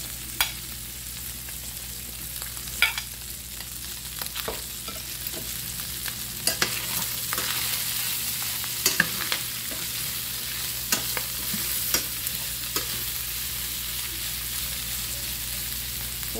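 Chiles frying in hot oil in a pan, a steady sizzle with scattered sharp crackles and pops over about sixteen seconds, close and moderately loud with no voices.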